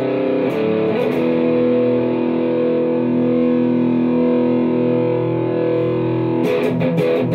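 An Ibanez AZ242BC electric guitar played through a Boss GT-8 distortion effect rings out loud and sustained, a thick, saturated chord held for several seconds before a few scratchy pick strokes near the end.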